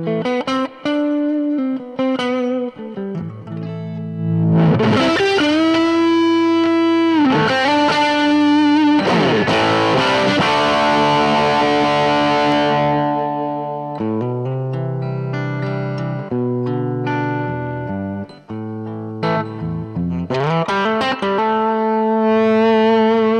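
A 1957 Gibson Goldtop electric guitar plays sustained chords and single notes through the amp's vintage channel with low gain off, sounding thick with effects and echo, close and loud with no voices.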